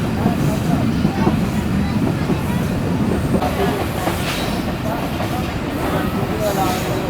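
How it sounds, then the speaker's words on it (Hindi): Karachi Express passenger train rolls into a station in Sindh, a loud steady rumble of wheels with rhythmic clacking and occasional squeal from inside the coach, a voice talking over it. "स्टेशन पर अप्रोच बना रही है गाड़ी हमारी।"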